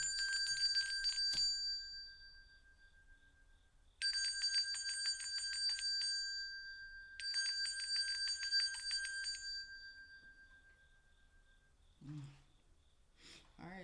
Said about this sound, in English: So let's go ahead and get this bell rung